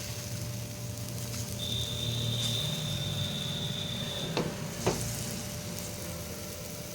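Fenugreek dhirde batter fries on a pan over a medium gas flame, a steady close sizzle broken by a couple of sharp utensil clicks, with a faint high tone drifting in for a few seconds.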